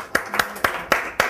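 Hand claps from an audience in a Hebrew-speaking coaching seminar on interpersonal communication, heard as five sharp, evenly spaced claps close by rather than a full wash of applause.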